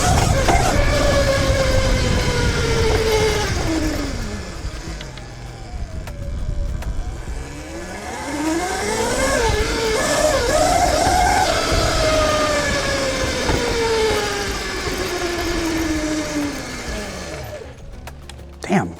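A 13 kW TruMoto RTR electric pit bike on stock knobby tires whines loudly as it rides past, its high motor pitch rising and falling with throttle over steady wind and tire rumble, fading out at the end.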